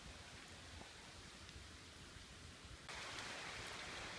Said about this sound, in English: It's getting pretty miserable out, i.e. raining